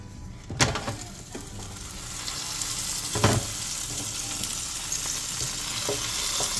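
An air fryer basket holding cooked sea scallops is pulled out, giving a couple of dull clunks over a continuous hot sizzling hiss.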